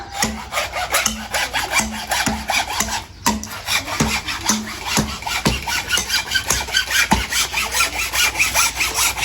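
A hand saw cuts bamboo tubes for khao lam, a close, loud, rhythmic rasp of repeated back-and-forth strokes with a slight squeal on some passes.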